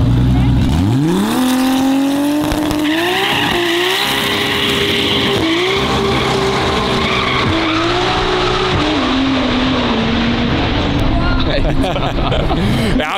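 High-powered cars, including an electric Blade, launching from a standing start in a drag race at the Salzburgring during a 2023 motor day: loud, near engine and motor whine rising in pitch with tire squeal, under continuous excited talk.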